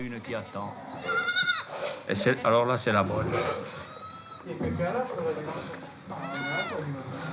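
Goats bleating on a Corsican farm, several wavering calls rising repeatedly over the clip, close and fairly loud, mixed with people talking throughout.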